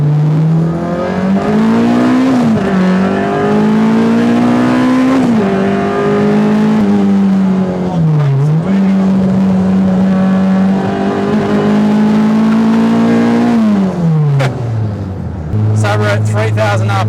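A car fitted with adjustable individual throttle bodies and a six-speed gearbox pulls hard through first gear, its loud engine note climbing and falling in steady revving sweeps before shifting, with a brief sharp burst near the end.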